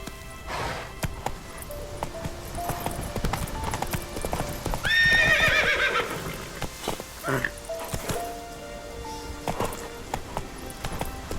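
Roach, a horse in The Witcher 3, gallops with a rapid clip-clop of hooves and gives a clear neigh midway, while background game sounds and a voice briefly speaking carry under it.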